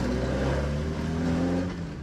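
A Mk1 Ford Escort loaded with luggage driving along country roads, its engine droning steadily at close range with a low hum and a slight dip in revs partway through, no talking.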